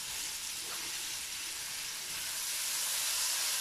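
Two medium-sized chopped onions hiss and sizzle steadily in a hot frying pan, a soft, even crackle that holds without pause and grows slightly stronger.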